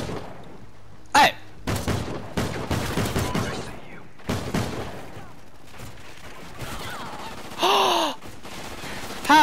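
Intermittent bursts of gunfire in the video game Call of Duty Ghosts on a ship map, short rapid volleys separated by pauses, close and loud, with a voice shouting in between.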